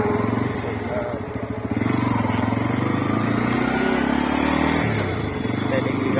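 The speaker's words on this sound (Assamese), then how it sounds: "বাইকত উঠি ল'লোঁ যাম" A motorcycle is ridden along with a steady, throbbing engine drone that stays loud and close throughout, while a voice talks over it.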